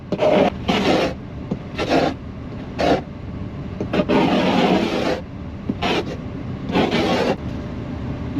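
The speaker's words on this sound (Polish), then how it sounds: "Trzeba skrobać." Ice being scraped off a car window on a frozen winter day, a series of harsh rasping strokes in bursts of about a second each, close and fairly loud with short pauses between them.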